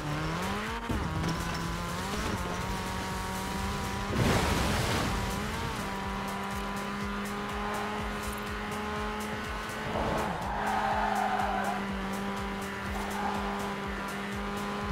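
A car drives in Forza Horizon 4, its engine note rising and falling through gear changes with a prominent revving tone, tire noise and a gusty rush near the middle, steady and close throughout.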